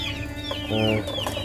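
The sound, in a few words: chickens clucking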